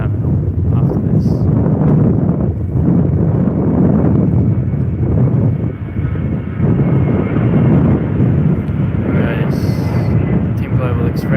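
Steady, loud wind buffets the microphone at an airport planespotting spot, with a low aircraft engine roar rumbling underneath throughout and people talking over it.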